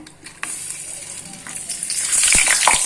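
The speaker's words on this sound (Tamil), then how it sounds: "நம்ம இப்போ வத்தல பொரிச்சு காமிக்கிறேன்" Hot oil sizzles and crackles steadily as sun-dried tomato crisps fry, with a few sharp pops and scraping clicks, growing louder toward the end.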